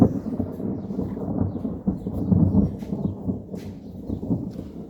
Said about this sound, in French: l'orage il allait être aussi foudroyant